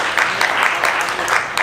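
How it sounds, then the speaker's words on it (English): A seminar audience claps their hands in brief, even bursts of applause that rise and fall at a steady pace and fill the short moment. "clap your hands if you think it's a good deal"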